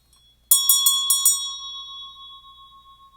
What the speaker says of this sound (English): So I'm going to go ahead and ring my bell.